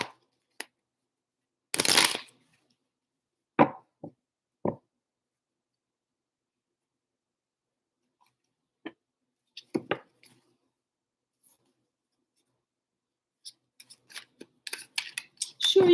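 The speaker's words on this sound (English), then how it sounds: "Let me shake these cards up." Tarot cards shaken and shuffled by hand, brief scattered rustles and soft slaps separated by silences, fairly close and quiet.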